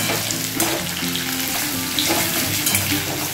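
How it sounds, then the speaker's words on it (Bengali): Potato pieces fry in hot oil in a pan, giving a continuous close sizzle with bubbling crackle and a few soft stirring knocks. "একটু লাল লাল করে ভেজে নেব"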